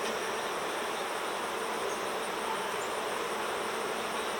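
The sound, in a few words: honeybees buzzing at hive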